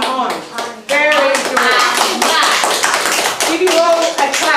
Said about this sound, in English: Give you all a clap.